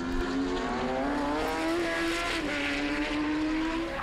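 Yamaha and Kawasaki racing motorcycles in a Promosport race at the Carole circuit, with a steady, loud engine howl that rises and holds in pitch as the bikes pass close by.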